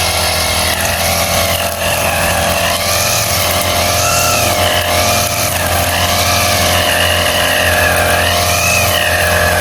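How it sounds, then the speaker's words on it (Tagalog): A gasoline grass cutter engine runs continuously near coconut trees, a loud, steady two-stroke drone with wavering pitch as the throttle rises and falls, close to the recorder throughout with no talking. "Kaya na po si Bossing, nagpandar na po ng kanyang makina"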